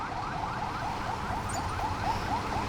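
An ambulance siren wails on a street in Saigon, Vietnam, its rapid repeating sweeping tone steady and fairly close over a bed of traffic noise.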